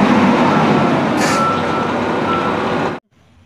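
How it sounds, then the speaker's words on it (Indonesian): A cement mixer truck rumbles loudly and steadily with a faint repeating reversing beep over the engine noise, then cuts off abruptly to near silence. "Wow, di sini ada truk molen."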